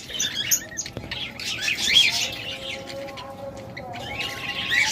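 A pair of Japanese finches with double-flower crests, both the same colour, chirp in quick, high, close tweets, with scattered calls over a busy background.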